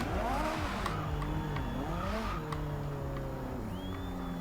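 A 2015 Ferrari 458 Speciale engine in Forza Horizon 2 revs up and down through gear changes, loud and steady, with a whining turbocharger pitch sweeping and a brief tire squeal.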